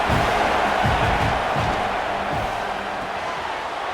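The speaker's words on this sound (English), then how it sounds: "this crowd is turning it up a notch" A college football stadium crowd at a Washington Huskies versus Arkansas Razorbacks game roars steadily and loudly throughout, a dense wall of cheering and shouting with no pauses.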